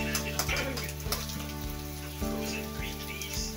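Garlic fries in a pan for restaurant-style yang chow fried rice, a steady close sizzle and crackle with a low hum underneath and a few soft stirring knocks.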